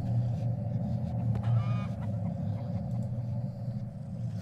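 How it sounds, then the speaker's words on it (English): Poultry calls from a chicken in the Mist Survival video game, a few honking, goose-like squawks over a steady low rumble of game ambience, moderately loud and close. "with the chicken making all that noise"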